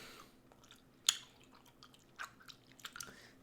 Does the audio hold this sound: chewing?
yes